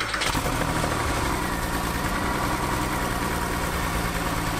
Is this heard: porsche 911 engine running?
yes